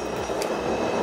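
MTA subway train in the Roblox game Rails Unlimited, a continuous rumbling roll of the train with a brief bright squeal partway through, loud and steady with no talking.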